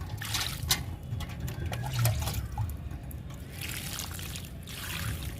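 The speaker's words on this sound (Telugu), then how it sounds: "చామంతికి వాటర్ ఇస్తున్నాను." Water poured onto a potted chrysanthemum plant, with a close, uneven trickling and splashing stream that swells and eases in soft bursts, alone without talk.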